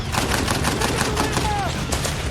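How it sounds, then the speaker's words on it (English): Machine guns on Humvees fire in a war film battle scene, a dense run of rapid, regular bursts under a layer of effects and music, heard close and loud. "Machine gunners on the Humvees fired back immediately."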